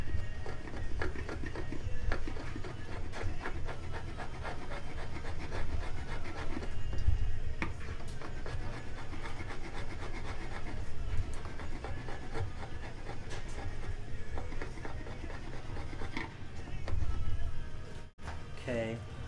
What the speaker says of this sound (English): So let me get a chisel to clean this with.